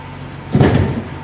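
Cargo door of a 2018 Ford Transit T-250 mid-roof short-wheelbase van opening, a single loud clunk followed by a brief sliding rattle, close up with no talking.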